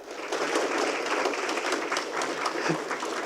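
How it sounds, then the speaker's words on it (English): Audience applause at a community family trivia night, a dense, steady burst of many hands clapping throughout, fairly loud and close, with no speech over it. "Let's give her a round of applause."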